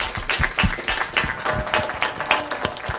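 Scattered applause for panelists at a Phoenix city government talk, a modest crowd clapping unevenly in a hall, sustained and moderately loud throughout.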